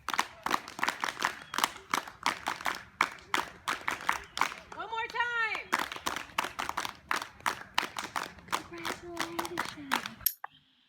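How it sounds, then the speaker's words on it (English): A group performs the Monroe clap on a morning show, a run of sharp, rhythmic claps repeated throughout while people keep talking over it, with a brief tonal vocal sound in the middle. "The Monroe clap."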